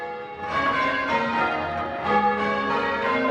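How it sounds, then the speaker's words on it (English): Church bells cast at the Whitechapel Bell Foundry ring out in a steady, loud peal, their overlapping tones sustained and resonant throughout with no talking. "The sound of bells that were cast, 10 years ago, and the sound of bells that were cast several hundred years ago."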